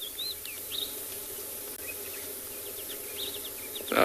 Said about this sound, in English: Oh, and there's a flappet lark as well if you listen carefully.